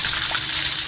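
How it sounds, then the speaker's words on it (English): Snowmelt rushing into storm drains and racing down a creek in Running Springs, a steady broad hiss of flowing water without pause. "Snowmelt is already surging into storm drains here in Running Springs and racing through Dry Creek"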